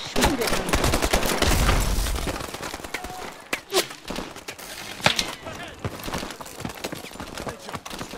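Bursts of automatic gunfire and scattered single shots crackle through a Call of Duty Advanced Warfare firefight on a traffic-filled map, rising and falling in intensity with a voice speaking intermittently over the battle.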